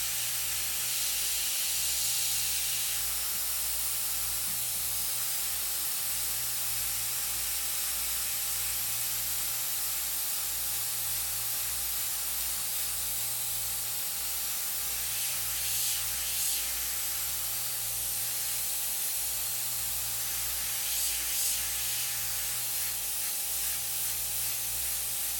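Airbrush spraying paint onto a t-shirt: a continuous close airy hiss with a steady low hum underneath, the spray swelling slightly at moments, no talking.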